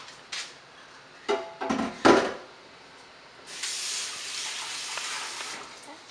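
A few clunks and knocks, then a sustained hissing pour of broth that runs steadily for a couple of seconds before easing off.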